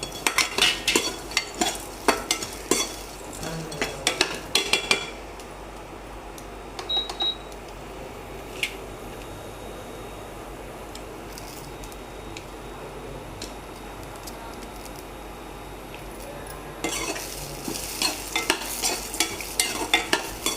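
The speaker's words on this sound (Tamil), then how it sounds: "இது நல்லா பொன்னிறமாக வர்ற வரைக்கும் நல்லா ஃப்ரை பண்ணிக்கோங்க" Grated coconut frying in a pan, a soft continuous sizzle with bursts of clinking, scraping stirring at the start and end, no talk.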